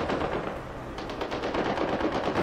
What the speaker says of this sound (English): Your gunfire.